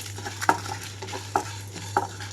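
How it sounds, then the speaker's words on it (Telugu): Dried red chillies and curry leaves frying in a pan for Nellore-style spicy rasam, three distinct scraping stirs over a low sizzle, close and fairly quiet, with no voices. "రెండు మూడు కరివేపాకు రెమ్మలు కూడా ఇందులోనే వేసి వేయించుకోవచ్చు"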